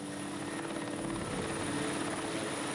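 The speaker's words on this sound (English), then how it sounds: "Helicopters are used to transport the ground troops to this inaccessible battlefield." Firefighting helicopter flying over a wildfire on a mountain, a steady throbbing rotor drone with a whining high turbine tone, constant and fairly close with no talk.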